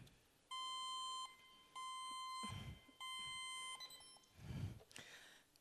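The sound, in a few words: farm robot beeping alert sounds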